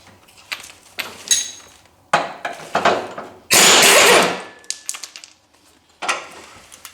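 A power tool zips nuts off a Simplicity Regent mower deck in short sharp bursts of whirring and ratcheting, with one longer loud burst in the middle and mechanical clicks between.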